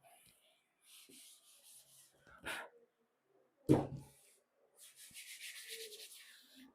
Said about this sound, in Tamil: எரேஸ் பண்ணிடலாம்.